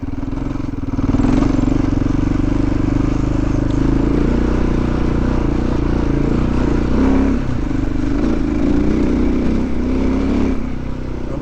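A loaded motorcycle carrying almost five gallons of fuel grinds up a steep, washed-out rocky trail in first gear, its engine droning loud and steady throughout with slight surges and some clatter.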